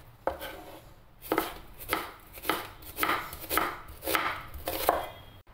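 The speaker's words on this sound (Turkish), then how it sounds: "Domateslerimizi küp küp doğruyoruz." Knife cutting tomatoes into cubes on a board, about nine crisp, evenly spaced chops, close and clear with no talk.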